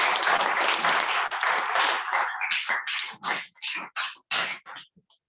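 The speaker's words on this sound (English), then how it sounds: "let's give a warm round of applause" Warm applause from a Toastmasters club meeting audience starts as a dense, steady clapping wash, then thins into separate bursts and a few last claps before falling silent.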